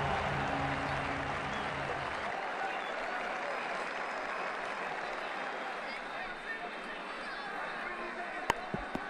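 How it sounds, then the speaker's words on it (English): A stadium crowd applauds in the cricket video game Ashes Cricket 2009, a dense, sustained roar of clapping that carries on steadily to the end, with a low hum fading early on. "Crowd applaud, a great night."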